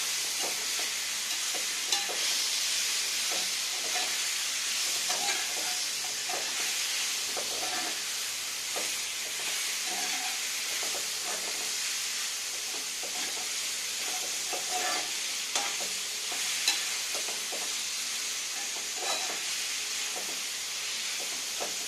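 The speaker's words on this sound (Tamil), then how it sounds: "மட்டன் மட்டனை நல்லா வதக்கணும்." Mutton sautéing in a pan for hotel-style mutton salna, a steady broad sizzle with frequent scraping stir strokes throughout, close and alone with no talk.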